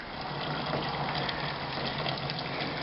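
Water rushes steadily through a wort chiller during home brewing, a close, continuous gushing hiss like an open tap, loud and unbroken.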